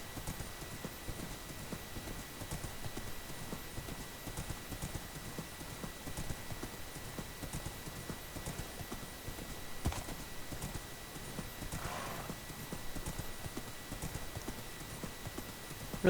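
Minecraft horse hooves clip-clopping along a pathway, a faint steady trotting rhythm of soft clops throughout with a brief neigh partway through, no talking.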